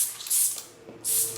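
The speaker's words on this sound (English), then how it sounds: "we'll give the bike a good spray down here" Finish Line Bike Wash, an orange cleaner, sprayed onto a bicycle in a bike shop, two short hissing bursts with a brief pause between, close and fairly loud.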